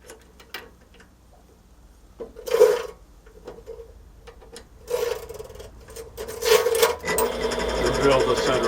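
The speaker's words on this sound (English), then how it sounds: "Drill the center hole a little larger." A drill bores out the center hole of a five-gallon plastic bucket with a larger bit, giving intermittent whirring bursts that grow longer and louder toward the end, with quiet pauses between.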